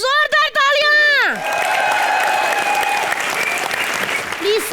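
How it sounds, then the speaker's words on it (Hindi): A television comedy show's studio audience breaks into loud, sustained clapping that fills the room for several seconds, right after a voice on stage calls out. "एक बार जोरदार तालियां।"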